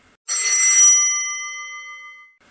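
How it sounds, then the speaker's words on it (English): A single bright bell strike rings out clearly in quiet surroundings, its metallic tone sustaining and slowly fading over about two seconds. "Just then a bell started ringing."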